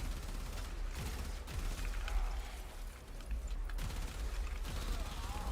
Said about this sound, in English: Excelsior's a fun weapon because rapid fire explosions is always a fun combination